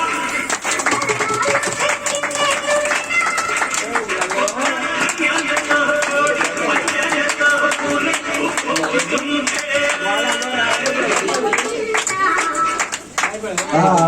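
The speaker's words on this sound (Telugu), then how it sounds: "Claps claps." Audience clapping at a Sankranti celebration held during a satsang gathering at Devi Centre, Polamuru: dense, steady applause rattling throughout, mixed with voices and other crowd sound.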